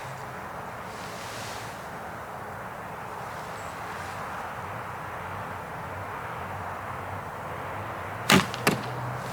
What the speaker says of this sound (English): But let's shoot the broadhead.